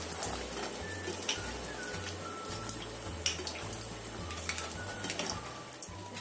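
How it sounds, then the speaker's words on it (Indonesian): Potato snacks frying in hot oil, a steady dense sizzle and crackle with scattered pops and a low repeating hum underneath, no voices. "Tapi ini aku mau goreng yang tak agak coklat lagi, biar lebih kering lagi."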